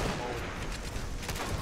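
Dense rapid gunfire aimed at a dervish in the game Planetside 2, a continuous rattling fusillade of overlapping shots that fills the whole short moment at fairly constant loudness.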